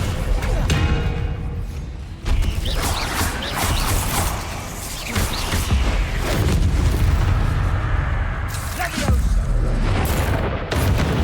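Spell blasts and booming explosions ring out in Hogwarts Legacy combat, loud, dense and repeated across the whole stretch with mechanical clatter between impacts and a voice talking over parts of it.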